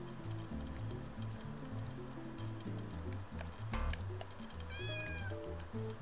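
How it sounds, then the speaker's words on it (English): Player character in the video game Heartbeat lets out a short, bright cat meow near the end, over looping game music with soft squishy, drippy effects. "I can meow?"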